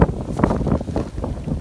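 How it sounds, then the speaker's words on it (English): Wind gusting across an open outdoor spot while a kite wing is flown, a steady broad rushing roar with loud buffeting wind noise on the microphone throughout. "Feels like we're in a gust, so let's be mindful of it."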